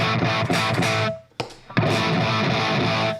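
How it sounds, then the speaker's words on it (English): Electric guitar played through an amplifier's normal channel, volume full up, with a clean, full tone; strummed chords ring out, pause briefly, then resume, loud and close. "Full up. Normal amp sound."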